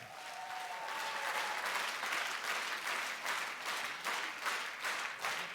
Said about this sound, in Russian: Ему аплодисменты.